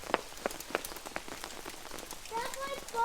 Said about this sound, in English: Look, it's hail. Look at the ground.